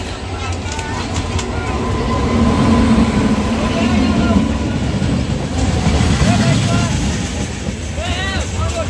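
The Digha–Howrah Tamralipta Express pulls into Ramnagar station in Bengal on a scorching day, a steady loud rumble of rolling wagons with faint tonal squeals, under continuous platform chatter.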